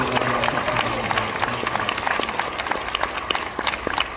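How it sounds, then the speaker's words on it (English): A crowd at a VIP Q&A session with Colton Dixon and Jordan Feliz applauds, moderately loud scattered clapping mixed with cheers and some voices over a steady hum. "So give you guys a round of applause"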